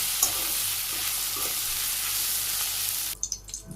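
Steady loud sizzling of a vegetable dish with garlic frying in a wok, then a few scraping stirs as the sizzle drops off near the end.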